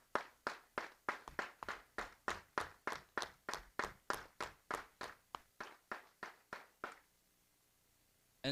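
Slow, even hand clapping for sponsors at a state high school VEX robotics championship, steady single claps at a regular beat for about seven seconds, fairly faint, then silence.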